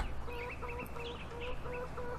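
Chickens cluck in the farm game Farming Simulator 2013, a repeated rhythmic clucking pattern with high chirpy overtones over a low steady background hum, moderately loud with no talking.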